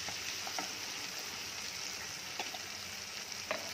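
Onions and tomatoes sauté in a pan for an egg curry, giving a steady, close hiss and sizzle with a few faint stirring clicks and no talking.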